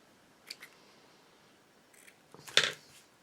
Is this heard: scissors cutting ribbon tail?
yes